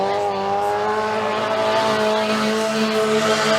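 A race car engine at a dirt track heat race holds a loud, steady tonal drone with sustained harmonics, strong and close, continuing without a break.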